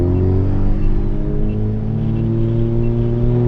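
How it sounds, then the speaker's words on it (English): A Honda Civic Type R fitted with 2000 cc injectors idles roughly just after startup, a loud, close, lumpy engine drone with steady low harmonics and slight wavering. "it does have a somewhat of a rough startup"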